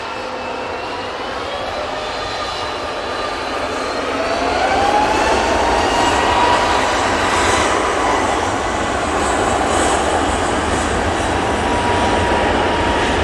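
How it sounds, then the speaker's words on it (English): A Ryanair jet arriving at Manchester Airport from Dublin roars steadily and loudly, swelling after a few seconds and holding a broad, sustained engine rush with a faint whining tone, no voices over it. "Got an arrival. Here's Ryanair. That's coming from Dublin."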